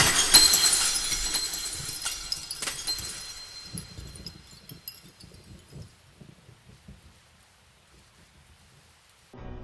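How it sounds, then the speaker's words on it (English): Glass cracks and shatters in a sudden bright burst, then loose shards tinkle and scatter, fading into quieter debris settling for an audio drama scene. "the glass began to crack all around her"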